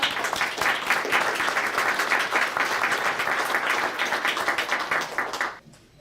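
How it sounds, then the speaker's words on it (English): A library financial planning workshop audience breaks into steady, dense applause, many hands clapping together for several seconds before it tapers off at the end, with no talking over it. "Give a big round of applause."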